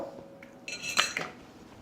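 Pasta with bacon and cheese being tossed in a pan: a few close metallic clinks and scrapes of utensils against cookware over a quiet kitchen background, with no voices.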